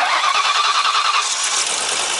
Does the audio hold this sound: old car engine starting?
yes